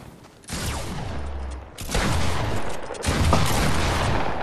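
Gunfire in the Fortnite video game: bursts of rapid shots, loud and close, in three dense volleys separated by brief lulls, with no talking.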